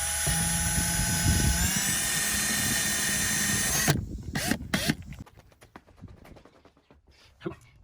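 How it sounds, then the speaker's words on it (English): An electric drill bores a small pilot hole for a mini split install, whining steadily at high speed for about four seconds before cutting out, followed by short bursts and handling clatter. "We're gonna drill a small, very small pilot hole to make sure we can pull off of that."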